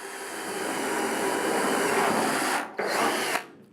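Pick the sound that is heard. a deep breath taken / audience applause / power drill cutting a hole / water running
power drill cutting a hole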